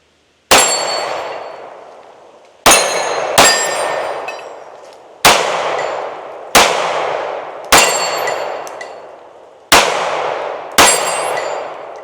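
Handgun shots ring out one at a time outdoors, each followed by a bright metallic clang from a steel plate target downrange, with seven or so impacts spaced irregularly and each ring decaying slowly.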